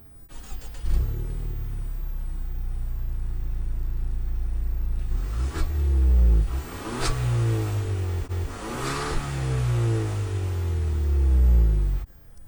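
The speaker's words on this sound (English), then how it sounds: "you do not have any good sound coming out of these exhaust pipes" A Kia Stinger's engine idles with a low exhaust rumble, then revs up sharply several times in a row, each surge rising and falling, close by.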